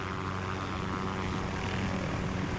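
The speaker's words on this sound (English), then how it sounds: "Barkov is sending in helicopters." Helicopters approaching in a video game, a steady loud droning rotor and engine roar that fills the whole stretch without letup.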